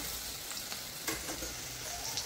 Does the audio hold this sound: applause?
no